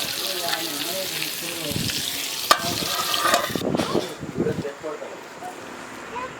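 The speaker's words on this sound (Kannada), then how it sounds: "ತೊಳೆದು ಒಂದು ಟ್ರಿಪ್ ಆದ್ರೆ ಮೀನಿನ ಫ್ರೈ ಮುಗೀತು." Fish frying in a pan of hot oil, a steady close hiss and crackle that fades partway through, with a voice talking over it.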